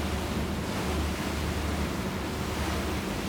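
Wind roars and waves rush steadily around a Cayman 45.0 Cruiser maxi rib under way at sea in the Gulf of La Spezia, a dense, constant wash of noise with no break.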